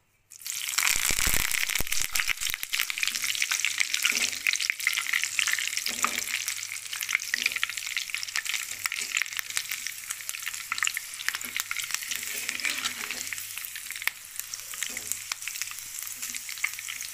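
Two green chillies and a few curry leaves fry in hot oil: a sudden loud burst of sizzle settles into a long, steady crackling hiss with small pops.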